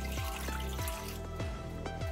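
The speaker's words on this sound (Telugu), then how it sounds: "కొద్దిగా వాటర్ పోసుకోవాలి." Water poured from a glass into a pressure cooker holding a steel stand, a soft trickle and splash with a few faint knocks, quiet and close.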